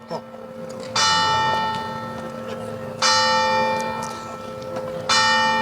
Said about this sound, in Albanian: Edhe këmbanat po bien për linjën e Zotit tonë Jezu Krisht